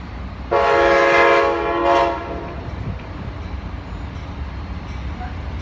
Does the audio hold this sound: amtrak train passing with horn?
yes